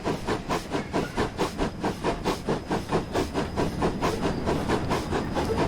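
A steam tank engine doing shunting work in Train Simulator 2021 on a fifties-era Riviera line, with rhythmic chuffing exhaust beats repeating about twice a second over a steady hiss, close and prominent.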